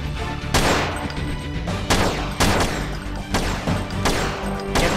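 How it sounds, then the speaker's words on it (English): Gunfire rattles through a police pursuit in a roleplay video game, with several loud, sharp bursts of shots spaced a second or so apart, close and echoing, and no talk over it. "Taking fire."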